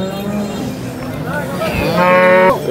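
A close, loud cow moo rises and holds, drawn out over a couple of seconds after a low rumbling start, at a cattle market in Sangola, Maharashtra.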